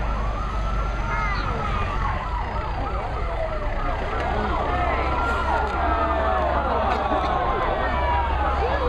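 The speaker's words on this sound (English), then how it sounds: "you can hear the second appliance, which is obviously going to attend as well" A fire engine's wailing siren sweeps up and down continuously as a second fire appliance arrives at a house fire demonstration during a volunteer fire brigade open day, steady and fairly loud over a low engine rumble.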